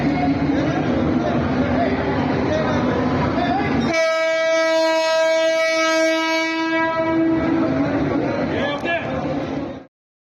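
A local train at a Mumbai railway station rumbles past nearby, loud and continuous, with a long sustained horn blast through the middle, then cuts off abruptly.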